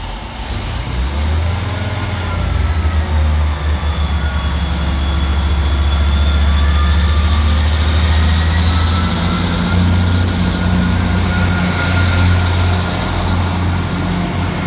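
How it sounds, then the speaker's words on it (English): Two Northern class 158 diesel units departing Dewsbury station, a steady loud low engine drone building from quiet and holding, with rising whine and rail noise, no talking. "Next out to depart for Northern is 158-901 and 158-853, with the 10:35 Northern service from Leeds through to Wigan Wallgate."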